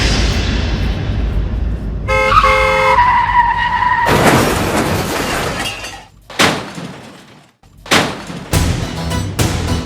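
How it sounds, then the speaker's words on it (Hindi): A car skids with a loud tire screech, then slams into another car with a crunching crash and shattering glass, followed by several more sharp impacts and debris clatters, loud and close. "आपने मेरी गाड़ी ठोक दी"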